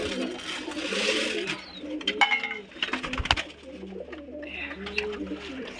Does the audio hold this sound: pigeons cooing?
yes